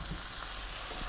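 Spice powders (turmeric, chili, cumin, coriander, garam masala) frying in a pan for coconut chicken curry, a steady close sizzle with soft stirring, no talk.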